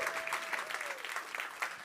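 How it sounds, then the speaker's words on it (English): Applause for finalists walking up on stage at a bio-based economy challenge event, a sustained round of many hands clapping, fairly faint and distant, with a brief whistle-like tone early on. "you can give them a round of applause when they are walking up"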